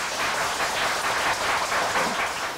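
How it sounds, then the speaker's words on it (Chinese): A church congregation applauds as a pastor is welcomed, with a steady wash of many hands clapping at an even level for the whole stretch. "请大家鼓掌。"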